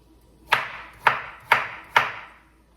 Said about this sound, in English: Just chopping up the vegetables now. So the carrots, I do them small